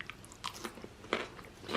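Close crunching bites into roadside-style Kashmiri mutton rogan josh, a few sharp crunchy bursts spread over under two seconds, fairly quiet with no talk.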